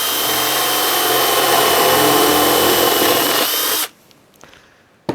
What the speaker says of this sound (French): J'ai plus qu'à percer comme ça maintenant.